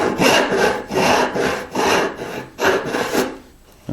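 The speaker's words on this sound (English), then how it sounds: "we just saw down to the line we scribed with our gauge" A hand saw cuts the haunch of a wooden tenon in close, loud back-and-forth strokes, about six rhythmic rasps in a row before stopping.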